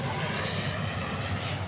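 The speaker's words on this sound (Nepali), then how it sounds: "अहिलेलाई चाहिँ ब्याकग्राउन्डमा प्लेन नै आइरहेको छ" An airplane passes over near Pashupatinath Temple, a steady, broad engine roar held at a constant level throughout the short stretch, distant rather than close.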